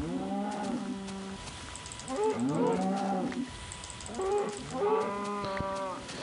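Cows low repeatedly in a Minecraft-style video game, with several drawn-out moos overlapping in two bursts, fairly close and clear, with a faint mechanical ticking in the background.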